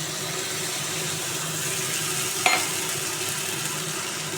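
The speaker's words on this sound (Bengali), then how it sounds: "এইগুলো একটু ভালো করে আমি নাড়াচাড়া করে নেব" Soft sizzling and stirring of chopped tomato with ground ginger, garlic and dried red chilli paste in a pan, faint and steady, with one sharp utensil knock partway through.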